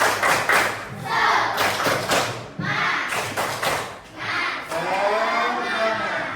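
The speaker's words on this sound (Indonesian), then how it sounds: "Tepuk semangat." A classroom of students performs the rhythmic tepuk semangat spirit clap, loud, close bursts of clapping and thumping in short counted groups with brief pauses between, and voices chanting along.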